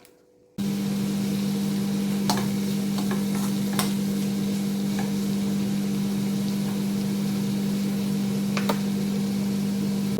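Curry leaves sizzle and crackle in hot coconut oil in a pan, a steady frying hiss with a low constant hum beneath and a few sharp pops, close and without talk.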